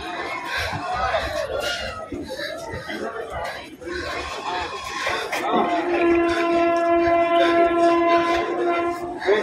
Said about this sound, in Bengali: আর এটা হচ্ছে আমাদের ট্রেন